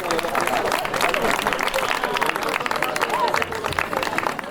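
Audience applause at a community gathering, steady dense clapping from a crowd sustained for several seconds, fairly close and even in loudness.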